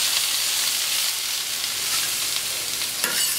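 Pre-cooked potatoes sizzle steadily in a hot pan as they brown and crisp, a close, continuous hiss and crackle with a brief stir near the end.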